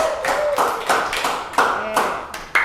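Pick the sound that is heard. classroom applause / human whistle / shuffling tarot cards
classroom applause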